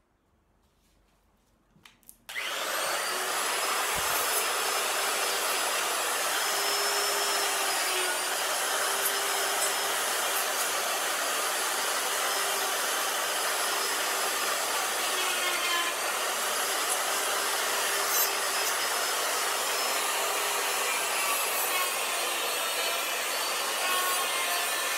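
A rotary tool fitted with a Saburrtooth burr grinds steadily into a wooden statue, contouring and detailing edges; after a brief quiet start, a loud continuous whirring abrasion runs unbroken to the end with no talk.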